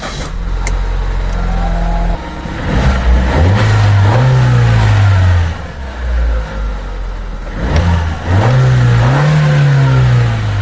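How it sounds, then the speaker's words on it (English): Ford E-Series van engine, under diagnosis for evap leak codes, cranking, catching and running loudly up close, with two rising revs that settle back to a steady idle. "So now I'm going to start the engine."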